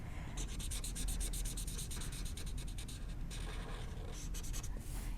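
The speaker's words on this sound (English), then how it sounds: "Now's the chisel tip. And then you can just use that. I'm just gonna color this in quickly." A Spectrum Noir alcohol marker with a chisel tip colors quickly on paper, making soft, close scratchy strokes in rapid back-and-forth rhythm over a low hum, with no talking.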